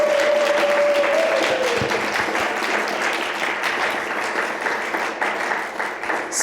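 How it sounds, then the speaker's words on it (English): An audience at a panel of women gives loud, dense applause that starts at full strength and slowly thins over several seconds, with a few cheers mixed in. "Can we just take a moment to give all these amazing women a round of applause?"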